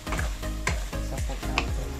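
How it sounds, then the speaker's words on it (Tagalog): Hotdog and smoked chorizo fry in a pan with a close, steady sizzle broken by a few sharp clicks and scrapes. "Lagyan ko po ng hotdog and smoke chorizo."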